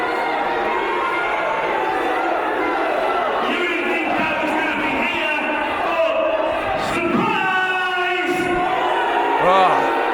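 A dense, loud crowd at a British wrestling show roars and jeers in displeasure, with sustained shouting and booing from many voices and individual yells rising out of the din throughout.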